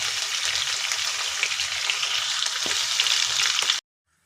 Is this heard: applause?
no